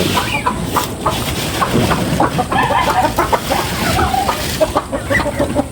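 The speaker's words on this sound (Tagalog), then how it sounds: "Ayan pa yung breeder natin na manok na yan." Native breeder chickens cluck and chatter close by, several birds at once in a steady, busy stream of short calls.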